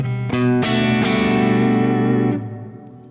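Loud electric guitar chords from a James Tyler Dann Huff Black Classic with pickups in series, a few quick strums building into one sustained distorted chord that rings about two seconds, then fades.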